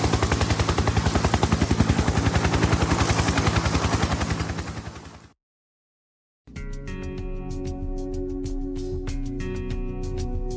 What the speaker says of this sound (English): why do I hear a chopper noise?